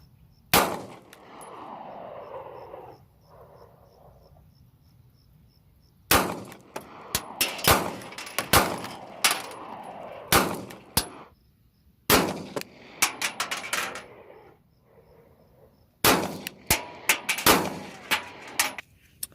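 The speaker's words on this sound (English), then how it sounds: "now that I've shot in a couple rounds through it" Loud, sharp gunshots from a Kahr CM9 9mm pistol, fired in several quick strings with short pauses between groups, each crack followed by a brief ringing echo outdoors.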